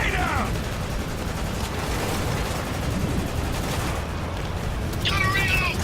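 Gunfire in the third-person military shooter Spec Ops: The Line, a dense sustained clatter of rifle shots and battle noise throughout, with shouted voices breaking through over the fighting.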